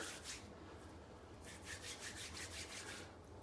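Beard balm from a shave kit being worked and rubbed between fingers, a soft, close, continuous dry rubbing hiss with gentle rhythmic swells and no talking.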